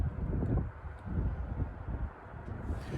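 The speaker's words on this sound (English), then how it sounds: "I really hope this wind isn't overwhelming." Wind gusts blow outdoors at Margate, a low buffeting rush against the microphone that swells and eases in several waves, fairly close and steady, with no speech.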